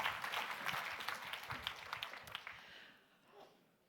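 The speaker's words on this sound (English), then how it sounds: "Please give a wonderful applause to them" Clapping from a conference audience at an AI summit's research session, moderately distant and thinning out, fading toward the end into quiet room noise.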